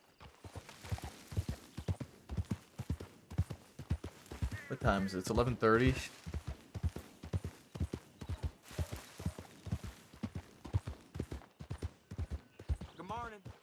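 Steady clip-clop of two horses' hooves at a walking pace in a roleplay video game, evenly spaced, with a brief exchange of speech over the hoofbeats.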